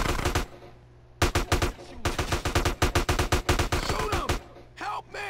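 Rapid gunfire in the video game GTA San Andreas: a brief burst, a short pause, then a long sustained volley of loud, close, evenly spaced shots that ends in scattered faint sounds.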